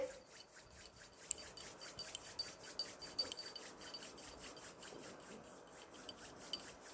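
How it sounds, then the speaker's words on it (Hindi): Two hands rubbed briskly together, a soft steady rasping swish repeating in a quick even rhythm, close and fairly quiet, with no talking. "दोनों हाथों को पहले रब कर लेंगे।"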